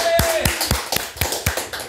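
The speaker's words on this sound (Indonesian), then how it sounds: "Tepuk tangan nomor satu dua tiga." Hands clap in a steady, even rhythm, about four sharp claps per second, close and clear against a quiet background.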